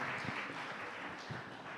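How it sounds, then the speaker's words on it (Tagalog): A church congregation clapping together during a service, a dense, steady wash of many hands applauding at once, close and loud for its brief length. "Lahat po pumalakpak ng malakas sa ating mahal na Panginoon."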